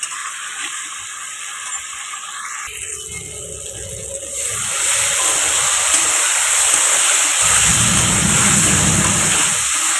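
A soybean mixture for soybean muitha stir-fried in a pan with a little water gives a steady, close hiss of sizzling that grows louder and fuller partway through, with faint scraping underneath.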